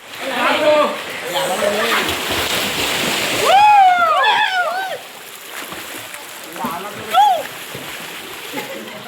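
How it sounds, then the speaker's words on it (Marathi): Boys swimming in water, with splashes and churning water under lively overlapping shouts and excited young voices, loud and close, quieter toward the end. "कसे पोरं आपली पोहत आहेत वगैरे."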